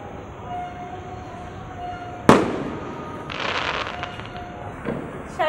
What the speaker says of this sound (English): Oh my gosh, she's scared of the fireworks.